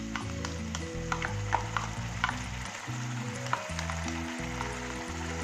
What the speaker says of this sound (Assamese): সম্পূৰ্ণ আদা নহৰুখিনিৰ সৈতে ৰঙচুৱা কৰি অকণমান টাইম এনেকৈ ফ্ৰাই কৰি ল'ম